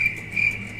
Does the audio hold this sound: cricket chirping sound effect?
yes